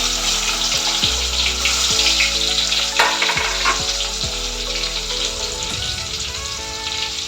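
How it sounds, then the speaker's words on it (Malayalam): Crushed garlic, shallots and curry leaves hit hot oil for a Kerala green bean stir-fry, giving a loud, dense crackling sizzle up close that keeps going, with a brief stirring rattle partway through. "നമ്മളിതിലേക്ക് വെളുത്തുള്ളിയും ചെറുള്ളിയും കറിവേപ്പിലയും ചതച്ചിട്ട് കൊടുക്കുകയാണ്."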